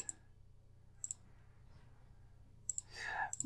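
Mouse clicks while pressing reset in TIA Portal software: a few sharp, quiet clicks, single and paired, spaced across the stretch over a faint background hum, with a brief soft noise near the end.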